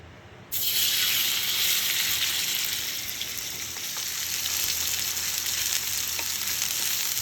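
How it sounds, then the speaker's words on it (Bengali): Eggplant fritters (beguni) hit hot oil and break into a loud, steady sizzle that holds for several seconds, easing slightly but staying dense and close, with no voices. "চেষ্টা করলাম একটু বেগুনি ভাজি"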